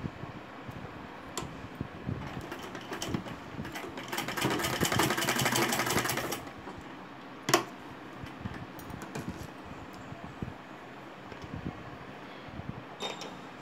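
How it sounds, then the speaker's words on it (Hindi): Sewing machine stitching a fabric loop for a baby garment, a fast steady mechanical whirring run of a couple of seconds, then quiet handling clicks and fabric rustle at low level. "और यहाँ पे कोने से हम सिलाई लगाएंगे।"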